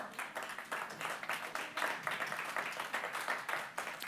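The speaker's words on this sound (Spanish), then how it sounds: "Denle un aplauso al Señor." Congregation in a Spanish-language church service claps, a close, rhythmic run of applause that swells and dips in regular pulses throughout.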